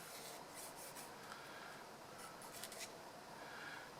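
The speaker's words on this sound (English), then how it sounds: "We get a great big file, and we file the rough edges off the outside." A large file rasps against the rough outer edge of a small model-railway tube, a steady, quiet back-and-forth scraping heard close up with no talk over it.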